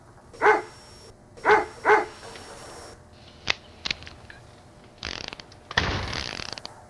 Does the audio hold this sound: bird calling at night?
no